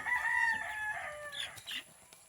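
A heritage Rhode Island rooster crows once, nearby and clear, in a backyard flock of chickens and geese, followed by a couple of short clucks.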